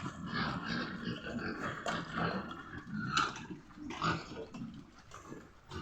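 Pigs grunt and snuffle continuously at close range, with messy chewing and feeding noises layered underneath.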